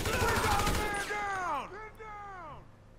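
In the video game GTA V, a rapid volley of gunfire opens, then fades under voices and sliding electronic tones from the game, all mid-loud and close.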